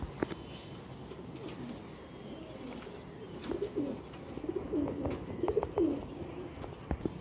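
Pigeons coo softly nearby, a series of low, throaty coos building in the second half over faint background ambience.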